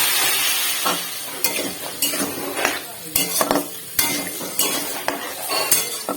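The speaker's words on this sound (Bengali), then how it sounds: "এবার আমি ভালো করে এটা কষিয়ে নেবো" Food being stirred and sautéed in a pan: repeated scraping clatters of a utensil against metal over a continuous sizzle, close and fairly loud, with no talking.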